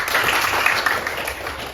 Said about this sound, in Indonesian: tepuk tangan dulu untuk orang itu